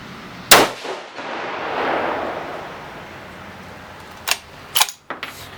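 A 6mm Creedmoor rifle fitted with a VG6 Gamma 6.5 muzzle brake fires a single loud, sharp close shot that rings out and decays, followed by a few metallic clicks of the action.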